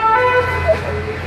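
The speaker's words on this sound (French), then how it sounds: "c'est l'ambulance qui arrive." An ambulance siren arrives in a street scene, its steady wailing tones sounding at moderate distance over traffic and background murmur, with a brief brighter whoop partway through.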